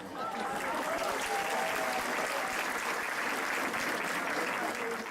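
Sustained applause from a crowd in an auditorium at a church conference, a steady unbroken wash of clapping at even loudness, with faint voices mixed in beneath.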